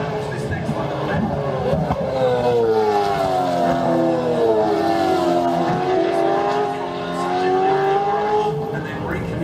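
A V8 Supercar engine at The Bend howls through corners, its pitch rising and dipping as the driver blips down through the gears on a left-hander, loud and continuous with no pauses.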